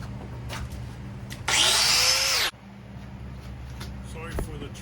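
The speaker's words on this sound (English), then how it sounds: "It's also helpful to have a little jigsaw," A small jigsaw trims a hardwood end cap in one loud, steady burst of about a second, rising sharply and stopping abruptly, with quieter background noise and faint handling sounds before and after.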